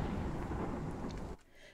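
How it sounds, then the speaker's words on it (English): Thunderstorm in the video game Life Is Strange, a loud, deep rumbling roll of thunder that sustains and then cuts off abruptly into quieter background. "Jeez, that thunderstorm is loud."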